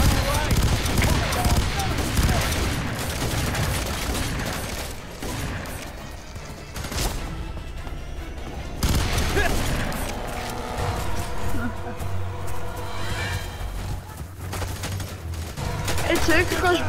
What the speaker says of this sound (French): J'ai un fusil à pompe, ça va faire mal.